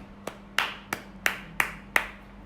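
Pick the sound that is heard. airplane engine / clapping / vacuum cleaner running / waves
clapping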